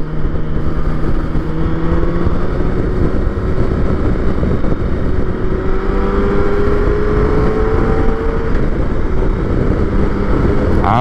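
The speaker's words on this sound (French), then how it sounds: "C'est une bonne grosse moto" Six-cylinder touring motorcycle accelerating hard to overtake a car on the road: a loud, smooth engine drone rises steadily in pitch under constant wind rush, with no voices.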